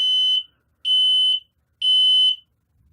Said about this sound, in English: the code 3 pattern on this alarm is slower than most